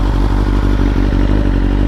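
A 2022 BMW S1000R with aero headers and stock exhaust runs close and loud, its engine beating in a steady, rapid train of low firing pulses with a faint mechanical clatter on top.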